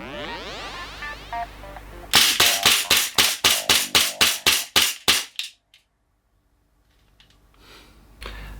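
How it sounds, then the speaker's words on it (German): A GHK Glock 17 CO2 airsoft pistol fires a rapid string of about a dozen sharp, snappy pops in quick succession, close and loud, then silence follows. "Das waren 10 Schuss und jetzt mal schnell hintereinander."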